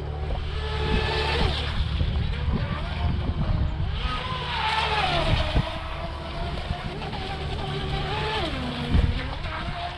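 A Wltoys WL916 Swordfish 3s brushless radio-controlled boat buzzes across water, its high electric whine rising and falling as it speeds and turns, steady and moderately distant, with wind noise around it.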